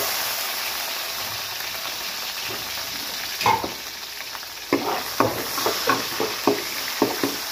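Onion dropped into hot cooking oil for a squid chop suey, a loud continuous hiss of frying with repeated scraping stirs and clacks of the spatula in the second half.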